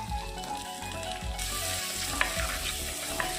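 Chopped ripe tomatoes frying with ginger, garlic and shallots for a fish curry, a strong close sizzle that surges partway through, with rhythmic scraping of a spoon across the pan and a few small clinks.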